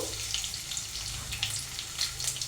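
Mustard seeds and chana dal sizzling in hot oil for tempering in a pan, a steady close crackle and hiss with small pops throughout, no voices.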